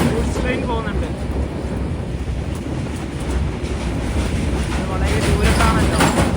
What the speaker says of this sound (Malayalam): അതിലൂടെ ഒരു ഗൂഡ്സ് ട്രെയിൻ പോകുന്നുണ്ട്